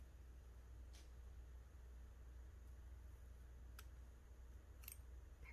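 Scissors snip through planner stickers a few times, with sparse, crisp cuts over a quiet, hissy background.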